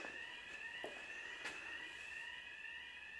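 An alarm going off next door: a high, continuous electronic tone rings faintly in the background, steady and unbroken, with a few soft knocks nearby.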